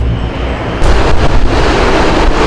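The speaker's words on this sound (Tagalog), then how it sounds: "Sinundan namin ang marahang ragasan ng tubig hanggang marating namin ito." A gently rushing stream of water, a steady broadband wash close by that grows slightly louder partway through, with no voices.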